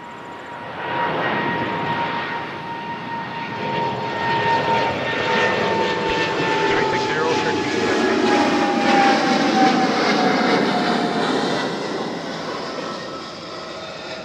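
An airliner taking off at Toronto Pearson airport, a loud sustained jet engine roar that swells and holds for the whole span, with engine tones sliding downward and no talk over it.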